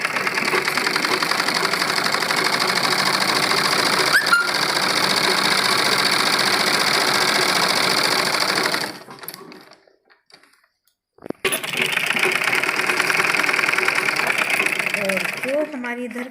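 A sewing machine runs at a steady, continuous whir while stitching the pieces of a men's kurta together along marked fitting lines. It cuts out for about two seconds midway, then starts up again.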